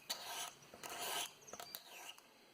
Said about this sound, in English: and literally scrape it, kind of like this.